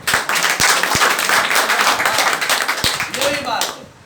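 Audience clapping at a computer education class, a dense spread of claps with a few sharp louder hits, fading out toward the end amid some background voices.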